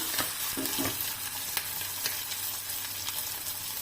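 Dates and green chillies sauté in a hot pan, making a steady sizzle with a few sharp spatula clicks and stirring scrapes, close and alone without talk.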